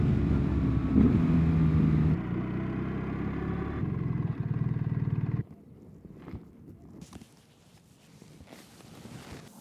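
A BMW R1300GS adventure motorcycle rides along a winding road, its engine a steady loud drone under wind rush that drops in level partway through and then gives way to quieter, scattered rustling sounds.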